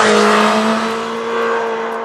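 Honda CB1000R motorcycle engine riding on small country roads in the Gard, a steady loud drone with a low tonal hum that eases slightly mid-ride, with no talking.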